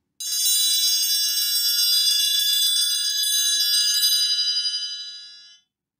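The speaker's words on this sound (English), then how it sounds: "if you want the bright and beautiful frequencies that this triangle has" A bright, shimmering metallic ring from a triangle struck at an angle, sustained for several seconds with high overtones before fading out. No voices.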